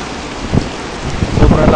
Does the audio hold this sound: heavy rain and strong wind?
yes